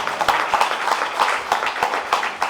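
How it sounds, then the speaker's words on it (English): Audience clapping at a breast cancer awareness celebration held by a health services workers union, with steady, loosely rhythmic hand claps from a modest crowd, close and fairly even, with no voices over it. "Please, let's clap for that."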